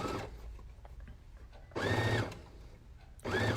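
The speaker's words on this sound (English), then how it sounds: "I'm being quiet here because I don't want to interrupt Kate's quiet sewing" A serger sewing machine stitches a ruffle quilt in two short loud bursts, the second brief, separated by quieter room sound with no talk.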